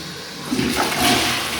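A residential toilet flushes close by, a steady rushing gush of water that swells and holds through the moment with no talking.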